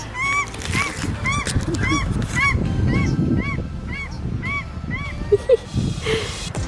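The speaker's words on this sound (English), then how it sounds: "There's so many ducks around." Repeated nasal honking calls from ducks ring out in bursts over a murmuring background at Milford Sound, with a couple of sharper calls near the end.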